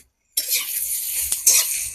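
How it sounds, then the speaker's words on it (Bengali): Chopped onions fry in a hot pan after a brief silence, giving a sudden continuous sizzle with stirring scrapes and a light utensil tap partway through. "পেঁয়াজটা দিয়ে দিলাম চলো পেঁয়াজটা ভালো করে ভেজে নিই"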